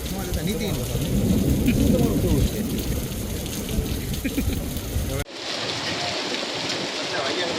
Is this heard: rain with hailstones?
yes